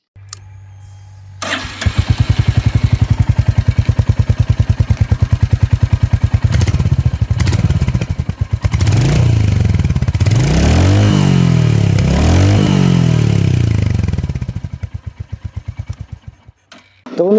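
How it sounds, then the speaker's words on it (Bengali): A Royal Enfield Hunter 350 motorcycle starts nearby and settles into a loud, steady thumping idle, with several rising and falling throttle blips from its exhaust before the engine cuts off. "তো চলো তোমাদের প্রথমে আমি হান্টারের এক্সস্টের সাউন্ডটা শুনিয়ে দিই।"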